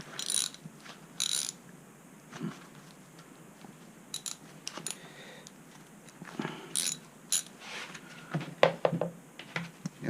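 Metal hand tools click and ratchet while bolts are loosened during a tire swap on a Pint electric board, with scattered sharp clicks and short rattling bursts close by, and no one speaking.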